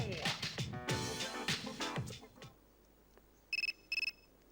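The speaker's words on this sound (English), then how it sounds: "And phone call time." A phone rings twice in the video game Persona 3 FES, two short bright electronic trill bursts, following a stretch of loud game music that fades out.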